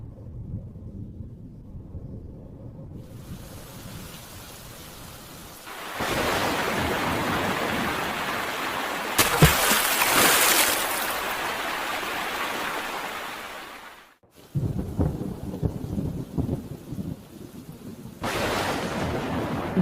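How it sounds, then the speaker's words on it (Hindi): Heavy rain pours in loud broadband bursts that come and go, with rumbling thunder swelling around the middle and a brief hush before the downpour returns. "देखो तो कितनी बारिश हो रही है।"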